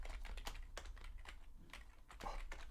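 Quick keystrokes on a computer keyboard while coding a Unity shooting system, a soft irregular patter of clicks, faint and close.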